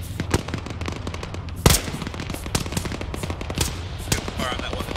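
Rapid gunfire in the Arma 3 military shooter game, a dense stream of sharp, loud shots and bursts with heavier blasts mixed in, continuous throughout with a faint voice underneath.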